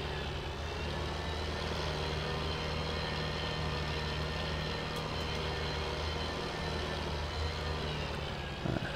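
John Deere 9000 series tractor engine in Farming Simulator 17, a steady low droning hum held evenly throughout, no talking.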